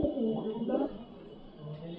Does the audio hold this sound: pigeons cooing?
yes